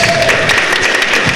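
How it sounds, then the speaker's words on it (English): Comics convention panel audience in San Diego applauding, a loud, dense burst of clapping filling the room, close and steady throughout. "Give a round of applause."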